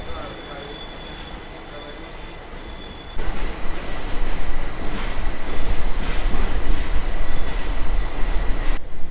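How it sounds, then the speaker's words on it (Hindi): A train pulls out of Trivandrum Central station, its loud, steady rumble and wheel noise swelling partway through, with faint voices in the carriage. "दिखाती हूँ मैं आपको हमारी ट्रेन का डिपार्चर"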